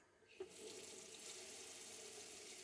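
Hot water runs from a caravan bathroom tap in a steady, strong rushing stream after a faint click as it opens, filling the small room with continuous splashing hiss.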